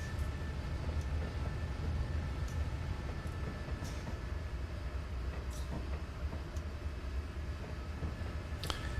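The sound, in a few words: train running through countryside in Train Simulator 2019 video game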